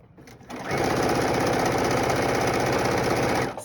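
Sewing machine stitching quilt block pieces together, a steady close whirring run that starts abruptly and continues evenly for about three seconds before stopping.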